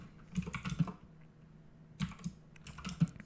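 Keystrokes on a computer keyboard in two bursts of several quick, fairly close taps separated by a quiet gap.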